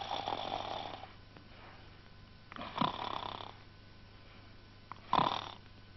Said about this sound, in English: he began to snore.